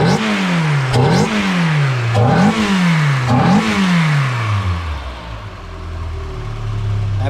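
A Renault Clio Williams 2.0 16v engine revs in four quick sharp blips up close, each rising and falling away, then settles into a steady low idle.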